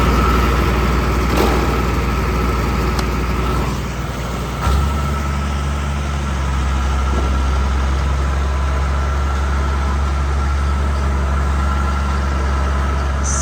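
Feed grinder auger running steadily until cleaned out while unloading feed for feedlot cattle, a loud continuous engine-like drone and hum close by, with a slight shift midway but no pauses, no talking.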